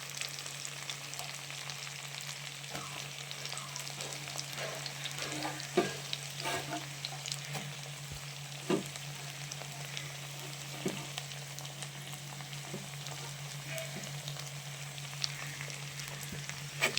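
Shallots and chopped onion sauté in a pan of oil for a garlic kuzhambu, giving a steady close sizzle with occasional soft spatula scrapes and stirs throughout, no talking, over a constant low hum.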